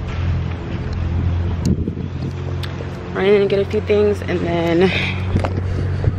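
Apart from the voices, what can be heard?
strong wind outdoors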